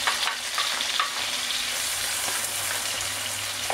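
Vegetables such as artichokes and squash sautéing in a pan for a vegetable omelette, a close continuous sizzle with a few soft stirring taps, steady loudness throughout and no speech.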